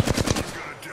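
Rapid burst of automatic gunfire in Apex Legends, a handful of loud close shots in quick succession that cut off abruptly.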